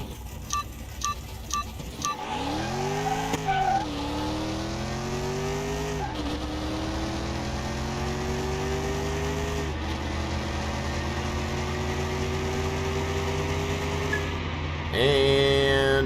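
A race car in the Car Mechanic Simulator 2021 game launches after a few short beeps, its engine climbing through several gear shifts in rising whines, steady and loud, with a brief screech near the end.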